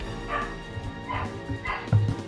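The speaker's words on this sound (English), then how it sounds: "It's the dog from Duck Hunt in the background there." A cartoonish dog from the Duck Hunt stage in a Super Smash Bros. game yips and barks three times in the background, fairly faint and evenly spaced, with a low game hum underneath.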